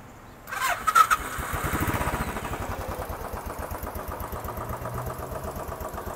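A 2018 Royal Enfield Classic 500 in gunmetal grey with stock exhaust cranks and fires up, revs briefly, then settles into a steady loping thump at idle, close by with no talk.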